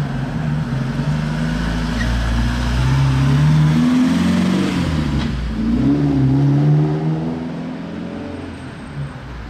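Car driving along a street in Monaco, its engine rising and falling in pitch as it accelerates past, fairly close and loud for several seconds before fading.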